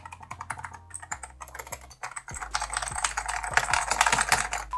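Rapid clicky typing on a Rampage KB-R77 36-key mechanical gaming keyboard with Cherry MX Blue switches, a steady close run of sharp keystrokes with brief pauses, no voices.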